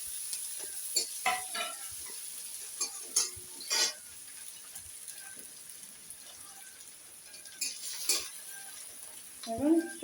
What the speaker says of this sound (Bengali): এই যে তেলে বড়া করেছিলাম সেই তেলে পেঁয়াজ কুচি দিয়ে দিলাম।